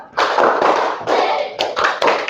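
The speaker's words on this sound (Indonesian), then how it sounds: "Tepuk semangat." A group claps out the rhythmic 'tepuk semangat' pattern at a classroom teaching session, with loud clustered bursts of hand claps in short repeated phrases and brief gaps between them.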